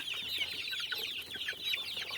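Dominant breed chicks, nearly two months old, out on a run cheep and cluck in a constant busy chorus, near and fairly loud, with no voices.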